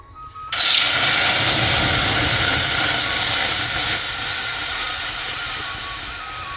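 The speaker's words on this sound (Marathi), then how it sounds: "आता कढई ठेवली तापायला. तापली, आता जूस टाकून घेते." Orange juice hits a hot kadhai with a sudden loud, hissing burst of sizzle and steam that holds strong, then eases slowly over several seconds.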